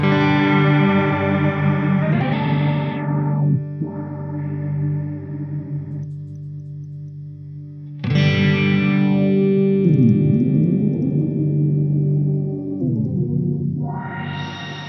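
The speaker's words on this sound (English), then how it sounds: "So if I play something like this," Electric guitar played through a Strymon NightSky reverb pedal: sustained chords swell into long, shimmering, modulated washes, fade to near silence, then return in a second and third phrase, with no talking.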